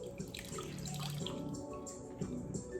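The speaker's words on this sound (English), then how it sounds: "We're gonna take a paper towel. We're just gonna kind of submerge it in there." Water splashes and drips as a paper towel is submerged in water before wiping a knife clean, a close, steady trickling with small drops over a few seconds.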